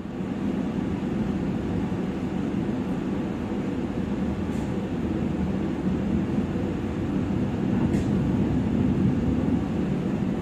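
Gaya Baru Malam Selatan passenger train running between Jombang and Mojokerto: a steady, close interior rumble of rolling wheels and carriage noise, continuous and even throughout with no talk.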